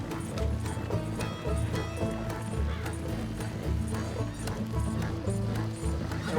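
Horse hooves clip-clopping in Red Dead Redemption 2, steady galloping rhythm on a dense, busy soundtrack with music or ambience underneath, no clear talk.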